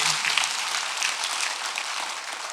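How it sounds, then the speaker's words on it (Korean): Applause from a congregation at a Korean Sunday church service, a steady wash of many hands clapping at an even level throughout. "박수 한번 드리세요."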